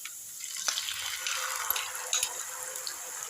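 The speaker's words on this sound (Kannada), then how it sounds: "ಈ ನೆಕ್ಸ್ಟ್ ಬೆಳ್ಳುಳ್ಳಿ ಫ್ರೈ ಆದಮೇಲೆ ಹುಣಸೆ ರಸ ಹಾಕ್ಕೊಳ್ಳಿ." Tamarind juice poured into a pan of frying garlic sets off a steady, fairly quiet sizzle with faint liquid splashes and a few small clicks, with no voices.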